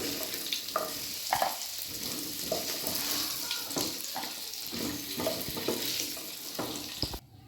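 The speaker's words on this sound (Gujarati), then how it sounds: "આ રીતે કાજુ અને પનીર આપણે સાતળી લેવાના છે" Cashews and paneer sizzle and crackle in a hot pan, with clinks and scraping of stirring throughout, then the sound stops suddenly at the end.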